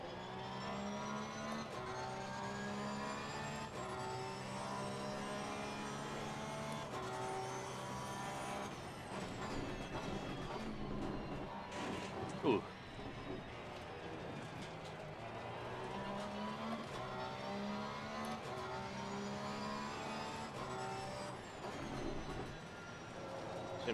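A Porsche 991ii GT3-R race car in the sim racing game Assetto Corsa Competizione (ACC) screams through revs and gear changes, its engine note rising and falling steadily, with a voice talking over it.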